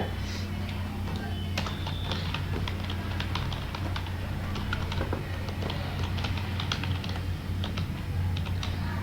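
Steady typing on a computer keyboard while an email address is entered, a continuous stream of light, close key taps over a constant low hum.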